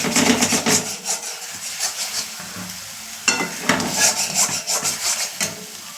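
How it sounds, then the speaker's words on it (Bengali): Spiced onion and tomato masala, with whole garam masala tempered in the oil, is stirred and fried in a pan, giving a close, steady scraping and rasping sizzle with rhythmic strokes. "আমি এখন মশলাটা এখন কষাবো, কষিয়ে তেলটা গোটা গরম মশলা ফোড়নে দিয়ে দিয়েছি"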